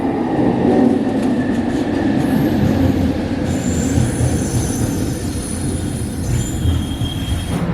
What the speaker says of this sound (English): Here comes a Millennium Line train.